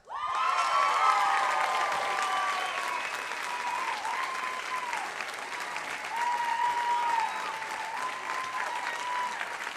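A pageant audience claps steadily at a large indoor show, a dense sustained round of applause with some cheers and whoops layered over it.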